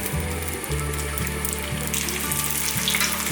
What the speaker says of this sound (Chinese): 油热了之后，把杏鲍菇放进来煎